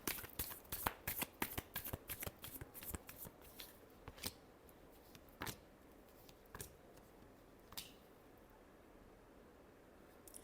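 Tarot cards being shuffled by hand, a rapid flurry of crisp riffling snaps that slows into a few scattered flicks and taps, fairly faint and close, with no talking.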